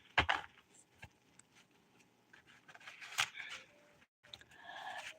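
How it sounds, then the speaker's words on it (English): Tarot cards shuffled by hand in a few quiet bursts of riffling and flicking, with soft card taps between them and a low background hum. "Let's shuffle some more."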